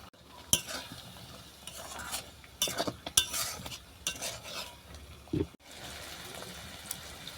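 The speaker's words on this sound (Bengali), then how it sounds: "এর মধ্যে এঁচড়টা দিয়ে আমি ভালো করে কষে নেব" Raw jackfruit cooked down with yogurt, sugar and salt in a pan for a dahi echor dish, scraped and stirred with a utensil, giving scattered clinks and scrapes over a soft, steady sizzle.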